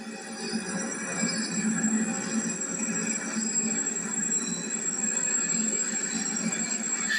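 A train on the Midland Main Line rumbles steadily along the tracks beneath the M1 motorway, with a continuous droning hum and faint high whine, unbroken for several seconds, no voices.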